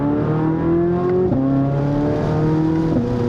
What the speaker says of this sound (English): Oh, it just bangs off the rev limiter.